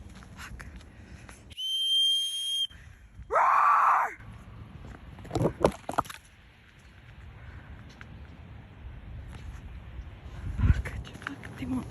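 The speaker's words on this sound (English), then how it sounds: "Laura blowing her emergency whistle and screaming as loudly as she could" Emergency whistle blown in a forest during a bear encounter, with two sharp, loud blasts followed by a woman's scream, then quieter rustling and scattered noises.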